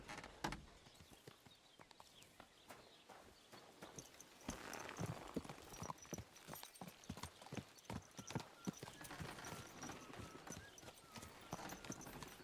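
Horse hooves clop steadily and fairly close in Kingdom Come Deliverance 2, a continuous walking rhythm of sharp knocks over soft ambient noise, briefly louder midway, with no talk over it.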